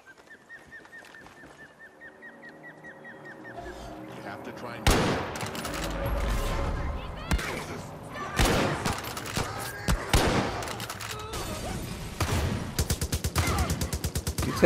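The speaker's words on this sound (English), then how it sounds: "Get that sniper rifle out." Gunfire in Far Cry New Dawn, loud cracking shots and rapid bursts beginning after a quiet stretch with a dog whimpering, continuing irregularly with several close, sharp reports.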